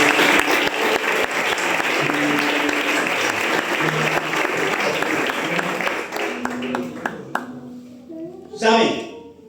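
Church congregation applauding in praise during a Spanish-language sermon, a dense sustained roar of clapping that thins into scattered individual claps and fades, with a voice sounding briefly near the end.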